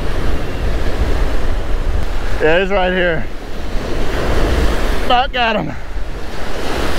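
Ocean surf churns steadily and loudly throughout while an angler fights a fish from shore, with someone speaking briefly twice over the wash of the waves.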